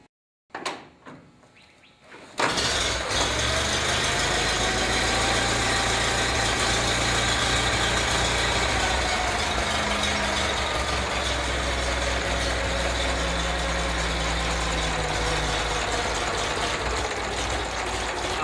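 1909 Delage racer engine idling after a few quiet clicks, then a loud, steady, throbbing low drone that holds evenly for the rest of the stretch.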